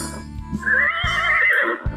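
A toy robot dog imitates a horse: a single whinny rises and wavers for about a second, close and clear, bracketed by brief low snorts.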